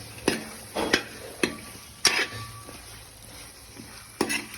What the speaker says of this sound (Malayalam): ഈ ഗ്രേവിയിലേക്ക് നമുക്ക് വറുത്ത മീൻ ചേർത്ത് നന്നായി യോജിപ്പിച്ചെടുക്കാം